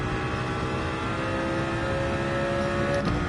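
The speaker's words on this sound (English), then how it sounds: "Have to rev it a bit." A car engine in Gran Turismo 7 drones and revs continuously at a loud, steady level, with a rising tonal whine toward the end.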